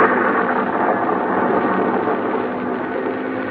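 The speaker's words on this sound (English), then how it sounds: "Now, another storm." Storm sound effect for an old-time radio drama: a steady, dense rushing roar of wind and rain with a low rumbling thunder undertone, loud and continuous, fading slightly toward the end.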